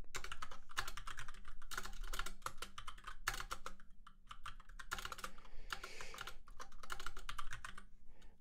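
Rapid, uneven keystrokes clatter on a computer keyboard up close, with a few short pauses between flurries of typing.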